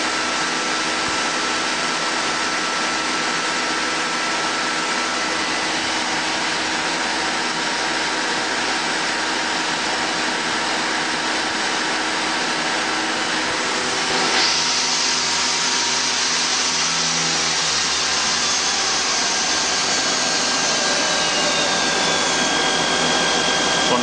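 A 2010 Mazak Nexus QT 200 II CNC lathe runs with a steady, loud, broadband whir and hum throughout, its tone shifting slightly partway through as the spindle speed changes.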